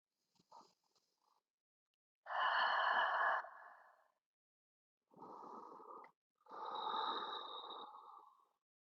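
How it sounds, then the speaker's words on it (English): Slow, deep breaths during a restorative yin yoga session, with a couple of long, loud airy exhales separated by silent pauses, close and clear with no talking. "2 more deep breaths here"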